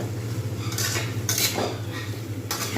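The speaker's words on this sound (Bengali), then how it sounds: "আর এবার এর মধ্যে ফুলকপি এবং আলু যেগুলো রেখেছিলাম সেগুলো আমি দিয়ে দেবো। এটা কিন্তু ভালোভাবে আমি নাড়িয়ে নেব।" Cauliflower and potatoes are stirred in a pan, a utensil scraping and clinking against metal in several short bursts over a low steady background hum.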